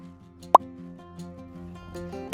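Boiled noodles scooped into a bowl of cold water give two sharp, close plops about two seconds apart over a soft background hum.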